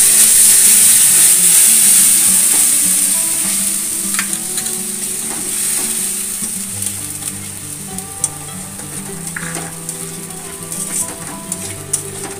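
Ginger, garlic, onion and chilli pastes with a little cumin powder sizzle loudly in hot oil. A strong frying hiss fades to a quieter crackle, with intermittent stirring clinks and scrapes close by.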